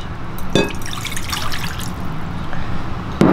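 Water is poured into cornstarch to make oobleck, giving a soft trickling, dripping pour with a couple of brief splashy spikes over a low steady background hum.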